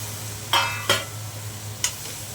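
Chopped drumstick pods tossed into a pan for a Latur-style vegetable dish, with three sharp stirring scrapes and a soft sizzle beneath a low steady hum.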